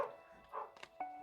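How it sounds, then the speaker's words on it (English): A dog indoors gives a few short, fairly quiet barks and yips in quick succession, heard at a distance within a room. "You have to bear with me, my dog's barking"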